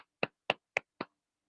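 Four separate, crisp hand claps at an even pace, fairly faint and close, welcoming a managing director onto the stage at a morning wellness event, then quiet.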